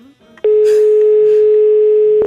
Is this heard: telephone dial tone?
yes